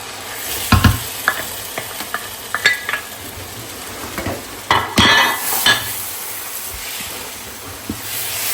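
Sweet vermicelli fries in ghee with roasted nuts, a close sizzling hiss under repeated scraping and clattering strokes of a spoon stirring against the pan.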